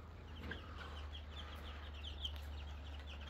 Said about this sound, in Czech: Takže to je 29 slepic a jeden kohoutek.